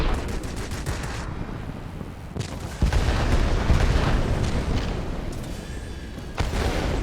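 Rockets firing from a Tempest fighter in the World of Warplanes game, a rapid crackling salvo followed by a loud rumbling burst and steady roar of engine and explosion noise.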